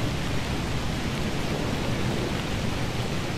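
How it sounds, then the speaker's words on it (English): A storm with rain and thunder in the video game Shelter 2, heard as a dense, steady wash of rain with low rumbling underneath, constant and enveloping throughout with no talk. "I want the storm to go away"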